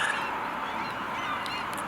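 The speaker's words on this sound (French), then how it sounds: "c'est pour ça que les mouettes sont là en grand nombre" Seagulls call over a fast sea current in the Lofoten Islands, Norway, their cries rising above a constant rush of water and wind at a moderate distance.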